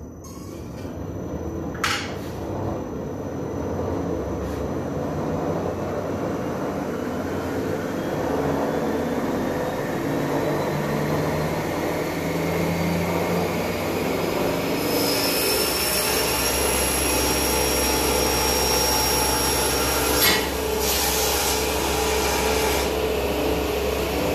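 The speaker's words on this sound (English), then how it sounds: "Start my table saw." A table saw running steadily while cutting aluminum stock clamped down with paste wax on the table, a loud continuous whine and roar with a rising high tone and brief sharp bursts near the end, no talking.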